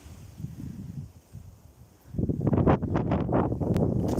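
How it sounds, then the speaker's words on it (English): Soft wind at first, then stronger gusts rushing and buffeting the microphone for the last couple of seconds. "It's a bit windy, but listen."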